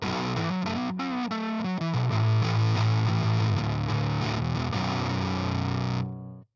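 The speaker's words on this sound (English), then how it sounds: "And you can also do single coil fuzz tones like this." An electric guitar plays a single-coil fuzz tone through a modded Marshall-style Coven Amplification Origin 50, with thick distorted chords and riffs ringing loud and alone before cutting off sharply.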